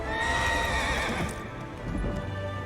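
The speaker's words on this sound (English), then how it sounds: "here's my horse" A horse in Elder Scrolls Online whinnies and snorts up close, with clip-clopping hooves underneath that fade toward the end.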